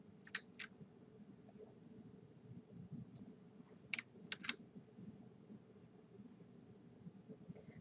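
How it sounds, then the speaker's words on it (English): Sparse keystrokes on a computer keyboard while text is typed into a message area, heard as faint, quiet clicks in a couple of small clusters over a low steady background hum. "Type the text into the message area."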